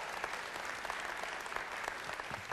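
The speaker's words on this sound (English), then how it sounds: "Yeah, you can applaud that." Church congregation applauding together, a steady wash of many hands clapping at moderate distance throughout, with no voices over it.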